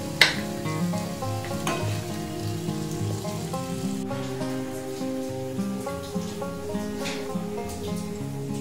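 Pointed gourd curry is stirred in a hot pan in a home kitchen, making a busy sizzle and crackle with repeated scraping strokes and clinks of the spoon, fairly close and continuous with no talking.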